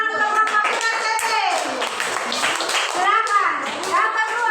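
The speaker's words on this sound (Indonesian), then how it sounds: "Oke, tepuk tangan untuk Bapak PTT." Children in a classroom clap in scattered, uneven bursts, mixed with excited young voices chattering over and between the claps.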